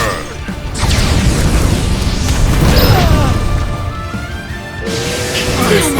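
A fire spell attack in Octopath Traveler II erupts in a loud, sustained burst of crashing, whooshing magical flames with a booming impact, lasting several seconds over a continuous roaring bed of game sound.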